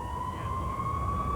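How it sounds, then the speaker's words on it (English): Distant emergency sirens wail steadily during riots in Cape Town in 1999, a single sustained tone over a dull outdoor rumble. "The Prime Minister did make his appearance to the wail of distant sirens"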